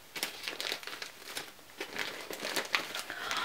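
Gift wrapping paper crinkling and rustling close up as a parcel is unwrapped, irregular bursts of crackly handling with no voices.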